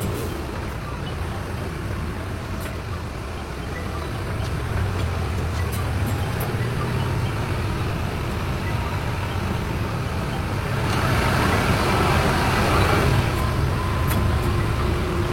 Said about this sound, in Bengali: বাস দেখেন যে সমানে শুধু লাফাচ্ছে, এয়ার সাসপেনশনের বাস।